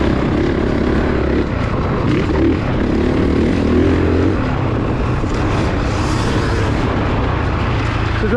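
A 2022 Honda CRF450 dirt bike engine runs at low revs, a loud, close, steady rumbling drone that holds throughout with slight rises and dips.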